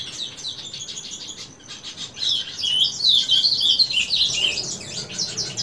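Caged pet birds chirp and tweet in a rapid, high, overlapping chatter that swells louder partway through, with no talking.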